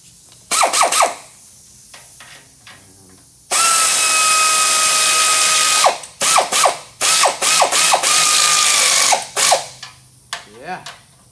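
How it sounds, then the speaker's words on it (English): A pneumatic air ratchet tightens nuts, giving short rattling bursts followed by a long continuous buzzing run, then more quick stop-start spurts at close range. "Grab my air ratchet."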